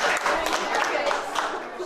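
Spectators clap and cheer at a bocce tournament final after a ball trickles in for a three-point call, a short, steady burst of applause with no voices standing out.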